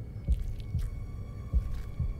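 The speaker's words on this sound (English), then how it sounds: "Oh, and that's a heartbeat." Heartbeat sound effect in an episode of the animated series Murder Drones, deep muffled thumps in paired beats over a low hum, steady and close, with faint higher tones in the background.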